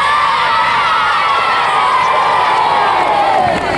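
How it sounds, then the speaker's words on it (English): Young supporters cheer and shout loudly and steadily at a 1985 school race between Hextable and Ipswich, a dense, continuous crowd roar of children's voices throughout. "I'm sure his supporters will cheer him all the way."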